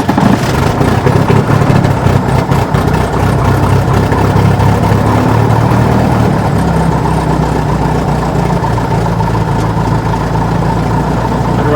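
The piston engine of a Cardinal RG aircraft turns over on a cold start and settles into a loud, steady, throbbing idle that runs on without a break.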